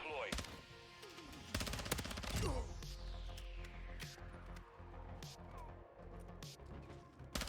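Rapid bursts of VEL 46 submachine gun fire from Call of Duty: Modern Warfare II crackle in several quick volleys, with sharp individual shots, distant battle noise and a person talking in between.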